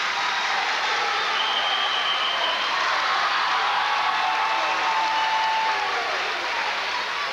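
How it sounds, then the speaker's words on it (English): Steady crowd applause and cheering from a distant mat at a high school wrestling state finals, a constant even roar of clapping that fills the arena without pause. "You can hear the crowd cheering."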